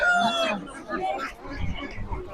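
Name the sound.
rooster crowing at poultry market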